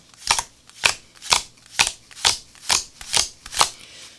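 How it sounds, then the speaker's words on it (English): A deck of cards being shuffled by hand at a table, a run of eight crisp riffling bursts in a steady rhythm, close and clear with no talking. "So I have shuffled the deck."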